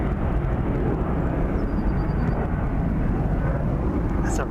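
A Ryanair passenger jet passes overhead as a steady, broad engine roar that holds at a constant level throughout, heard from the ground at moderate distance.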